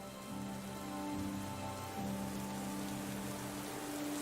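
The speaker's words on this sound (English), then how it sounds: "standing around here all day in the pouring rain" Steady pouring rain outside a governor's palace in the video game Lost Horizon, a dense continuous hiss of drops on surfaces with a low hum beneath, even in level throughout.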